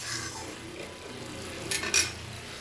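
A utensil stirs khosla greens curry in a pan, with soft scraping and a few sharp metallic clinks close by near the end.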